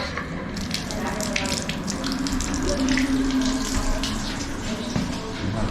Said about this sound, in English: let's go ahead and give the tub a test